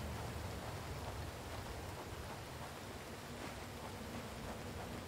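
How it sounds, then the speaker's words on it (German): Steady rain falling in the video game Retreat To Enen, a dense, even hiss of rainfall with no talking. "Wieso regnet es hier rein?"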